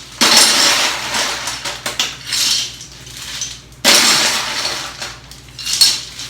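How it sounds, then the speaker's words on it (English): Ice cubes are scooped from a refrigerator's ice bin, clattering and rattling in two loud bursts of hard clinks close by, with a brief pause between scoops. "So I'm going to get a couple of big scoops of ice."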